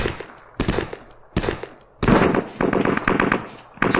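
Loud, close bursts of rapid gunfire crack out in several volleys with short gaps between them, from a World War II tactical shooter set in Normandy in 1944.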